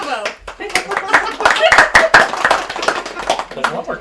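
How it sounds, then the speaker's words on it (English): Hands clap in repeated, uneven bursts, loud and close, mixed with laughter and excited chatter from several people. "There's a lot more clapping in this episode."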